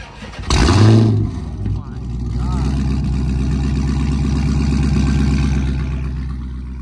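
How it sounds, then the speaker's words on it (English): A flame-tuned Dodge Charger R/T with a new exhaust and a ghost cam starts with a loud starter whir and a burst of revs, then settles into a deep, lumpy idle that rumbles steadily close by. "So let me give y'all the little startup real quick."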